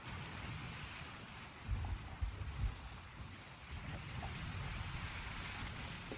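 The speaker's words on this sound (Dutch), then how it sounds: "Oh, nu hebben we dat wind lekker in de zeilen." Wind and ocean noise around a sailing ship at sea in the video game Sea of Thieves: a steady broadband rush of wind and water, with a few low thumps of waves against the hull, and no voices.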